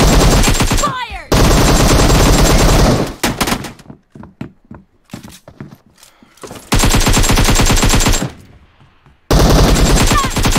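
Bursts of automatic gunfire in the mobile shooter PUBG Mobile during a team deathmatch, loud sustained volleys separated by a quieter stretch of scattered single shots and game sounds.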